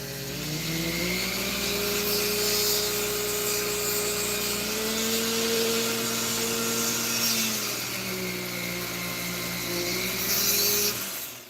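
Power tool cutting around a metal rivet while building a Gaslands model, a steady whirring motor whine that dips and shifts in pitch as it bites, close and continuous, then cuts off at the end.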